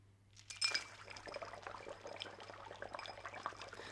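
Water pours and splashes steadily, with glassy clinks and liquid trickling at close range and no voices.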